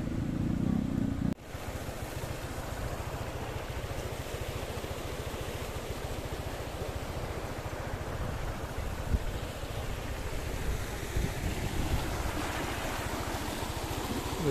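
A Honda motorcycle on an off-road adventure rumbles steadily as it crosses a river, with the low engine drone mixed with continuous rushing water and splashing, after a brief louder burst at the start.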